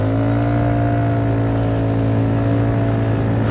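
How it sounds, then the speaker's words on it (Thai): An engine runs loud and steady with the throttle held wide open, a constant close-up drone with no letup or change in pitch throughout. "บิดคันเร่งคาไว้เลยนะฮะ"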